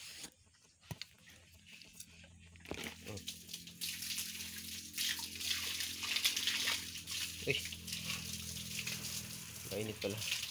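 Hot water gushes strongly from a tap at a piggery, a steady rushing hiss that swells after a few seconds, with someone talking nearby.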